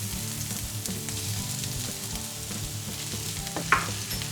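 Mushrooms hitting a pan of browning onions, a steady dense sizzle of frying close up, with a brief clatter of utensils near the end and no talking.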